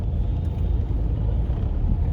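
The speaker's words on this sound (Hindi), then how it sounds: "मेट्रो सिटी के अंदर आपको इस तरह के ट्रैफिक की तो आदत पड़ जाती है" Traffic on a busy road in a Delhi-area metro city, heard as a constant low rumble of cars and engines passing nearby with no voices.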